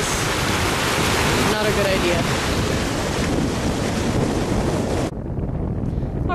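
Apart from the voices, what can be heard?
floodwater pouring over as a waterfall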